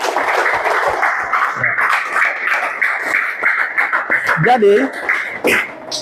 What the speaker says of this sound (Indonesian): Oke, tepuk tangan dulu untuk teman kita.